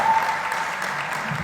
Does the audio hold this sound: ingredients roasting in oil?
no